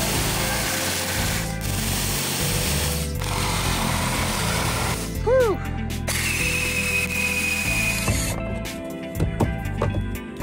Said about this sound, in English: I was really hoping I was done with this jigsaw